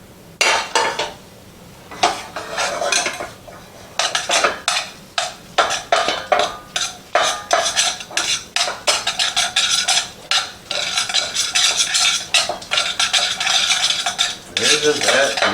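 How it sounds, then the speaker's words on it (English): A spoon scrapes and clanks against a pot while candied carrots are stirred into rice, a brisk run of repeated metallic strokes, loud and close, with no talking. "We stir them together."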